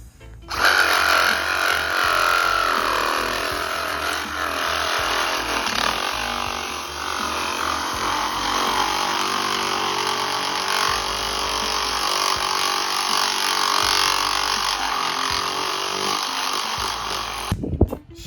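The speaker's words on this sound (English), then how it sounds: "now that we've cut the broken part out of the ground with the reciprocating saw" A reciprocating saw cuts through a broken pipe cleanout in the ground, a loud, continuous buzzing rasp that runs steadily for most of the stretch before stopping abruptly near the end.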